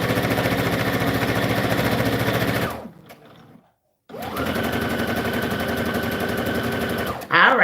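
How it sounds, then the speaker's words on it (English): Sewing machine stitching satin fabric ribbon anklets, a close, fast rhythmic clatter that runs for a few seconds, stops briefly, then starts again. "We want to start sewing."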